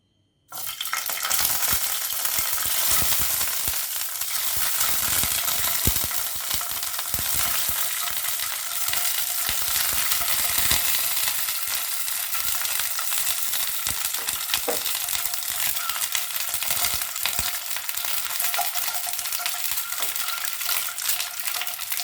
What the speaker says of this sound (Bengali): এবার ডিমগুলোকে ভালো করে ভেজে নিতে হবে।